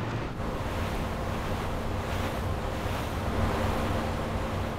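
Strong wind at sea during a warship sinking operation, a steady broadband roar with wind buffeting the microphone and surf-like wash, constant and unbroken throughout, with no voices.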